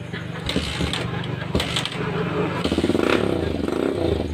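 A motorcycle engine is cranked and sputters into a rough, uneven idle after a CDI replacement, with clattering mechanical noise close by and a voice speaking briefly over it.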